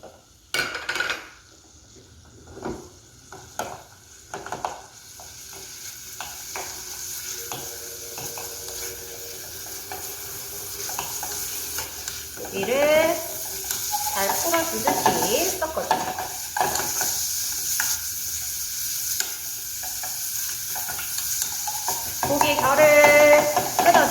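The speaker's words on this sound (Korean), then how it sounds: "마늘 향이 싹 커지게 되면 다져놨던 고기를 넣고 잘 풀어주도록 하겠습니다." Minced meat stir-fried with butter and garlic in a pan for Italian meat sauce, a soft sizzle under repeated scraping and clacking of a spatula, building busier and louder toward the end.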